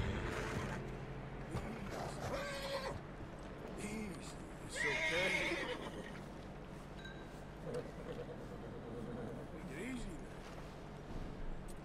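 Horse neighing and whinnying in the Red Dead Redemption 2 open world, a few clear calls with hoof clip-clop, heard under busy game ambience and someone talking over it.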